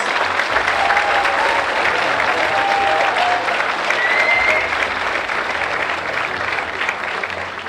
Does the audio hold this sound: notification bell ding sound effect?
no